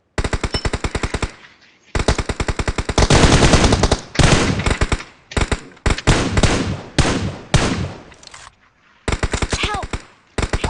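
Rapid automatic gunfire from a PUBG Mobile mecha battle event crackles in loud, repeated bursts separated by brief gaps, with excited players shouting over the shooting.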